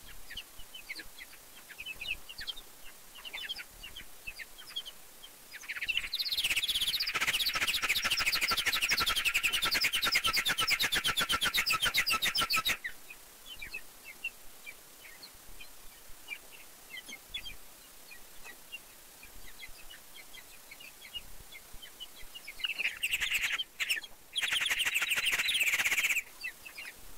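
High, rapid chirping bursts from mice come in two dense stretches, with quieter scattered calls and a faint background hiss between them.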